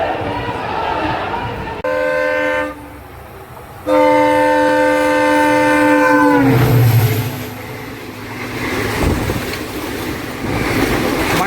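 An express train rolls along at about 110 km/h with a steady rumbling clatter, and two loud, sustained horn blasts ring out close by, the second one longer.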